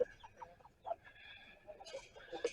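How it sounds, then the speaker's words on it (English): A hen outside the fence gives a few soft clucks and short calls, faint and slightly distant, in quiet surroundings. "We do have a chicken outside the fence."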